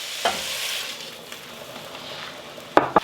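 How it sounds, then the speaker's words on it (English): Tomato hits a hot pan and sizzles, giving a steady hiss with brief stirring scrapes and a couple of sharper clatters near the end. "I'm going to put the tomato in now"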